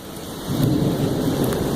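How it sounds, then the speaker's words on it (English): Thunder rolls as a low, swelling rumble through a steady hiss of heavy rain during a nighttime rainstorm outdoors, loud and continuous with no talk. "thunder, great."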